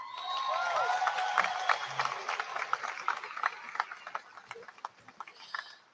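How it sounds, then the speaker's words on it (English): A graduation audience at the 2024 Emmaus High School commencement breaks into a round of applause, a dense patter of many hands with scattered cheers, swelling at first and then thinning out as the clapping tapers. "Yes, round of applause is fine."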